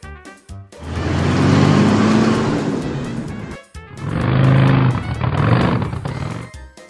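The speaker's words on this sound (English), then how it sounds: "Catering truck." A catering truck engine roars in two close, loud surges with a short dip between them, a thick low growl throughout.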